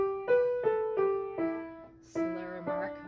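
A piano plays a short phrase of "Arkansas Traveler" with slurred note pairs, about seven soft single notes and a light chord ringing close and quiet in a gentle, even rhythm.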